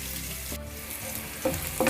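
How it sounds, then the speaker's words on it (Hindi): Onions for paneer bhurji fry in a pan with a constant, close hiss of hot oil, and a couple of brief stirring scrapes near the end. "प्याज जो हमने डाले थे वो अच्छे से फ्राई हो गए हैं।"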